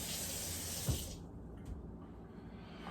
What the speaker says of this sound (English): So I just wash them in cold water, quick scrub down, put them off to the side.